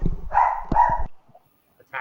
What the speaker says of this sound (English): Attack of the Dogs.